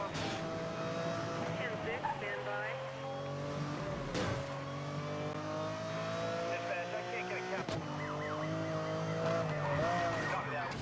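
A car drifts in the video game Need for Speed Most Wanted (2012), with a continuous engine roar and squealing tires through the turns. A voice talks over the game sound.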